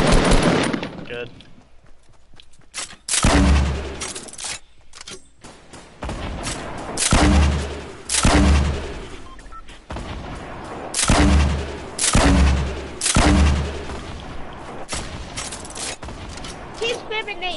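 Repeated heavy grenade explosions boom at steady intervals amid gunfire in the video game Fortnite, each blast loud and close, with players talking throughout.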